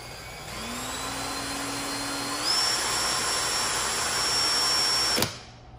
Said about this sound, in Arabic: ومن خلال الضغط على زناد التشغيل فبقدر أتحكم في السرعة